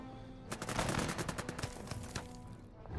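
Rapid tank cannon and gunfire in the game Total Tank Generals during the battle of Gela, a loud burst of repeated sharp shots rattling in quick succession, fading slightly toward the end.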